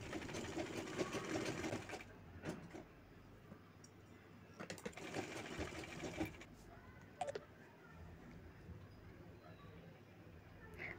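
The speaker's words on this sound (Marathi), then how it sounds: "शोल्डरला मी डबल शिलाई घेत आहे" A sewing machine runs in fast bursts, double-stitching the shoulder seam of a baby boy's kurta, with brief pauses and small clicks between the runs.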